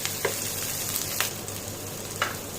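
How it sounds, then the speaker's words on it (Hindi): Chicken with onions frying on high heat in a pan, a dense close sizzle with a few brief stirring scrapes, continuous and with no one talking. "तेज आंच पे इसे हम 3-4 मिनट तक फ्राई करेंगे"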